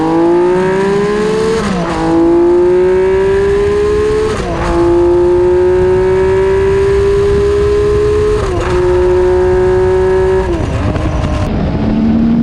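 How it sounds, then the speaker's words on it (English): A red Honda CBX 1000 six-cylinder motorcycle accelerates hard, its loud engine howling upward through several gears, each climb cut by a brief dip at the shift. "My red CBX accelerating hard."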